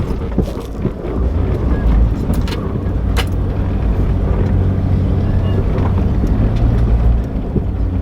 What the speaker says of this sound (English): right now we're gonna hit those sand pits right there and see how it does